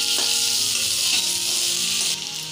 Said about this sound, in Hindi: इसमें हम डाल देते हैं आलू इसे चला लेंगे और आलू को भी हल्का पका लेते हैं